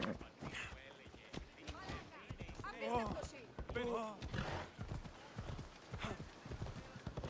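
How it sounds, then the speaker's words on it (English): Hooves of a galloping horse in Assassin's Creed Odyssey, a rhythmic clip-clop beating steadily under someone talking over the game. "Horse is never gonna catch up."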